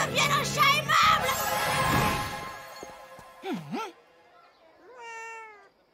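A cat meows in two distinct calls, one rising and falling and a shorter later one, following a busy stretch of music and effects, with a magically transformed tiger now a friendly cat.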